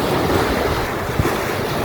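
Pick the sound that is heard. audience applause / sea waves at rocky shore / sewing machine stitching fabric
sea waves at rocky shore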